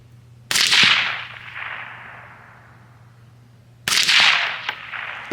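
Two sharp rifle shots ring out at a shooting range a few seconds apart, each a loud crack followed by a long echoing tail, over a low steady hum.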